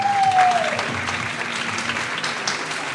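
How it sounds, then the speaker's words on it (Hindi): An audience at a cricket talk show claps throughout, a dense, even patter of many hands at steady loudness, with a voice briefly heard at the very start. "नहीं, तालियां बजाओ यार।"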